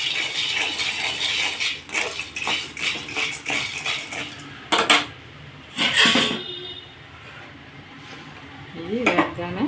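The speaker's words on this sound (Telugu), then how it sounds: "వీటిని బాగా దోరగా వేయించుకొని పొట్టు తీసుకోవాలి" Peanuts roasted and stirred in a pan, a close rattling clatter of nuts scraping and tumbling against metal with a few sharper knocks, a voice briefly audible near the end.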